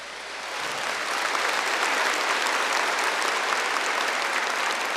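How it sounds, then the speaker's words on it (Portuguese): Audience applause for the Pope, a dense wash of many hands clapping that swells in quickly and holds steady and loud, with no talk over it. "Dá uma salva de palmas para o Papa."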